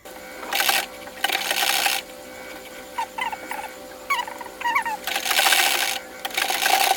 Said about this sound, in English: So I'm just going to sew it from the armhole point straight to the midpoint